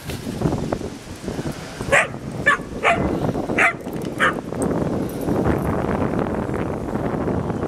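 Several sharp barks and yips from whippets ring out at an outdoor dog park, scattered irregularly over a steady wind-like background rumble.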